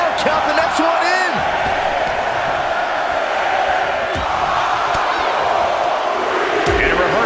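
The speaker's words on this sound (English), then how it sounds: "Listen to this crowd count the next one in." Arena crowd in the WWE 2K24 wrestling video game during a Royal Rumble match, a loud continuous roar of many voices chanting along as an entrant is counted in, with a commentator talking over it.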